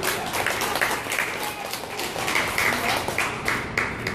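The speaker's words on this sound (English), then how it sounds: "Everybody clap." Spectators at a children's martial arts tournament clap in a dense, continuous patter, with scattered voices talking underneath the applause.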